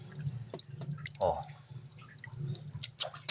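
Water trickles and splashes into a container of iced live shrimp with light dripping, close by, under a steady background hum and occasional clatter.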